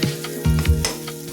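Pieces of meat for meat pitha are dropped into a pan of lightly fried onions, bringing a close sizzle with a couple of soft thuds, then settling into steady frying.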